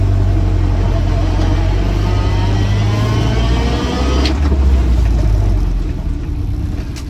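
A Land Rover Lightweight with a slightly bent reverse selector fork idles steadily and loudly up close, its engine rumbling continuously with a mild swell partway through while it reverses.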